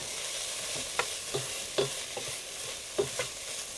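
Meat for a shepherd's pie browns and sizzles in a pan, a steady hiss with a few louder pops and scrapes of stirring, close and fairly quiet.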